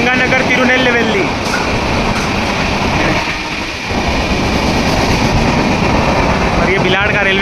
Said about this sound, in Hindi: सामने से आ रही है एक्सप्रेस, कौन सी है, श्री गंगानगर तिरुनेलवेली।